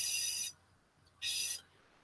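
An airbrush sprays during cleaning, blowing through into a receptacle in two short bursts of bright, hissing air about a second apart, separated by near silence.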